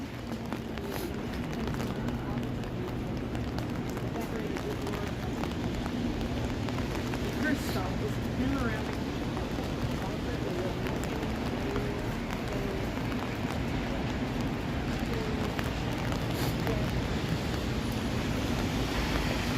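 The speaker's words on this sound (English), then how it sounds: "It is raining real good right now." Freezing rain falls on a Toronto street on a miserable Tuesday evening, a dense, steady hiss of drops spattering pavement and surfaces, continuous and enveloping, with faint traces of voices beneath.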